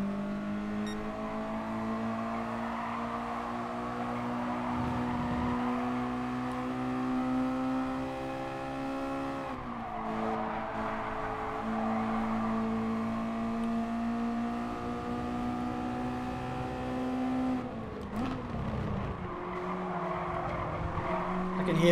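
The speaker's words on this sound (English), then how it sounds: "I can hear the car behind me." Race cars lapping Laguna Seca in Gran Turismo Sport, a steady droning engine note holding pitch with shifts and a brief dip near the end, tire noise underneath, loud and continuous throughout.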